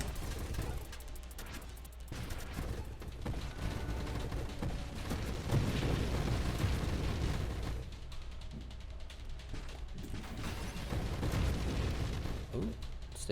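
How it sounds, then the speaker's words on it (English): Explosions in the space shooter Nova Drift rumble and crackle in dense, continuous bursts, with deep booms swelling around the middle and end, while a player talks over the game audio. "Stayed in that explosion for longer than I wanted to."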